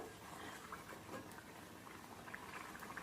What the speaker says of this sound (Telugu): మీడియం మంట మీద వేపుకోండి పూరీలు అనేవి చాలా బాగుంటాయి